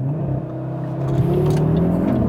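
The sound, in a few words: carbon Audi RS3 launch control acceleration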